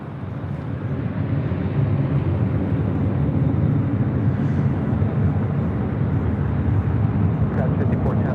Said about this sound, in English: we've got a Delta A350-900 next arrival on 24 right